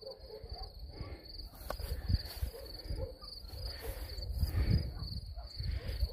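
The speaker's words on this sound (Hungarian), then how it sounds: "És ugyanez a tücsök ciripeléssel egyáltalán nem zavar." Crickets chirp steadily outdoors on a walk, a constant high trill running under rustling and low footstep or handling noise with wind-like rumble, moderately faint and continuous.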